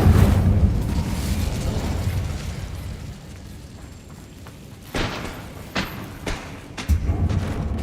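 An Incendio fire spell cast in the Hogwarts Legacy video game, with a booming rumble at the start that fades, then a few sharp bursts and pops later on, loud and with no voice over it.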